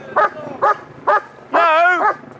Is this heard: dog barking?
yes